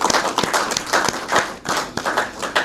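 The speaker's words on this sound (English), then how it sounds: "Another round of applause for our Prime Minister who has brought this home for us." Guests at a signing ceremony for a hospital reconstruction project clap in a round of applause, individual hand claps distinct and close, a modest group rather than a large crowd, with no speech over it.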